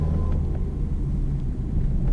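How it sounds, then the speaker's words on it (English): A car engine bogging down on the climb up Cullowhee Mountain Road, a steady loud low rumble that drones without clear change, heard from inside with no talk. "You can hear my engine bogging down here a little bit."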